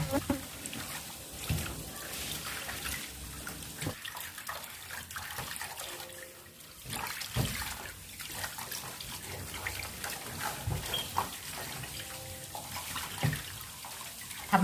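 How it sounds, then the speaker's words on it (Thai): Tap water runs and splashes as shark meat is rinsed in a kitchen, an uneven close gush that surges and dips, with someone speaking over it at times. "ล้างอีกสักหนึ่งรอบนะคะ"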